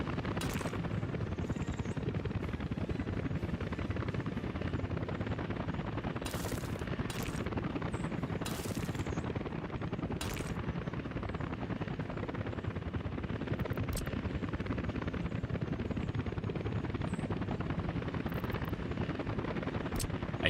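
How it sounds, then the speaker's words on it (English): Helicopters in the city-building game Workers and Resources, a steady low rotor drone running continuously with occasional brief clicks, moderately quiet. "I hear helicopters."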